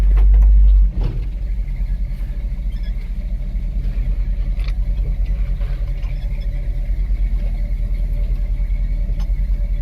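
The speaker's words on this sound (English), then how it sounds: "I love this truck, fires up so easy." A Chevy truck engine cranks and fires up from a cold start, settling into a steady, deep rumbling idle close by.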